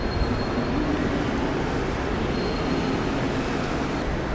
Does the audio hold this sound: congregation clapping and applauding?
no